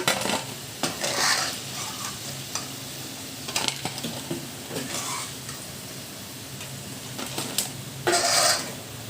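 Leftover-rice pakoda fry in hot oil with a steady sizzle, while a metal spoon stirs and scrapes the pan in bursts, close and fairly loud.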